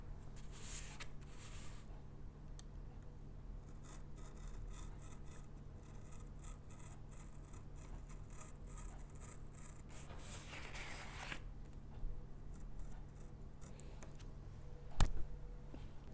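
A knife cuts through craft material for a Waldorf light picture, making steady, quiet scraping and rasping strokes over a long stretch, with a sharper snap near the end.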